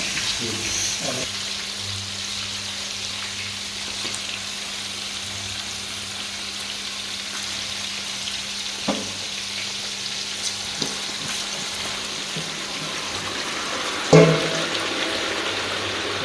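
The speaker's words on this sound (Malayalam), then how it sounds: "നമ്മുടെ ചിക്കൻ നമ്മൾ അടിപൊളിയായിട്ട് വറുത്തെടുത്തിട്ടുണ്ട്" Chicken frying in a shallow layer of hot oil for a chicken roast, a steady soft sizzle running throughout with a few light clinks of a utensil, one sharper knock near the end.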